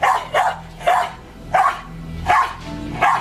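Dog barking in five spaced, loud bursts, each a short double or single bark, close by with a low hum underneath and little else around.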